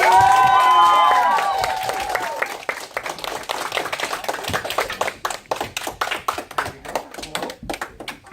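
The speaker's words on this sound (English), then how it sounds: "Give them a round of applause." An audience at an elementary school performance applauds after a fifth-grade American Revolution walk-through, opening with a burst of cheering and whoops and then thinning into scattered, individual claps that fade out.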